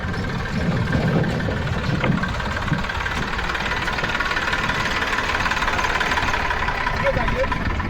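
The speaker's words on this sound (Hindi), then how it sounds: "ट्रैक्टर का आना जाना शुरू हो गया है, 4 व्हीलर आना जाना शुरू हो गया है।" A tractor engine runs while crossing a newly built rural bridge, a steady loud mid-pitched drone throughout with a voice speaking near the start.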